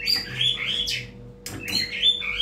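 A black-tailed white-rumped shama sings a bright, varied series of whistled phrases and chirps, close and clear with a brief pause midway.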